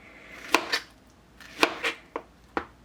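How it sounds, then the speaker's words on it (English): Sharp knife strokes through juicy peaches on a cutting board for a peach-pineapple pie, five or six distinct cuts at an uneven pace, close and clear against a quiet room. "I'm going to cut and measure out these peaches"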